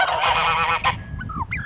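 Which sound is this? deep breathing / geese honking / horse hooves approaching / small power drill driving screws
geese honking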